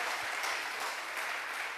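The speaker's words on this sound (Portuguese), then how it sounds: "Aplauda Jesus bem forte." Congregation applauding during a church celebration service, a dense, even wash of many hands clapping continuously throughout.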